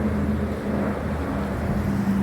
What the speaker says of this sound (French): C'est un canadair.